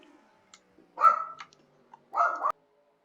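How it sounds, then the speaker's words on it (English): A dog in a home room gives two short, sharp barks about a second apart, close and clear against near silence. "Apologize for the dog."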